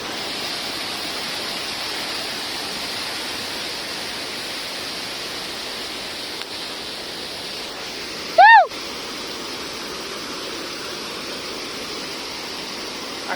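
Rushing water from a nearby stream in a rural colony near Nizamabad, a steady broadband roar filling the whole clip, briefly interrupted by a short loud electronic-sounding chirp partway through.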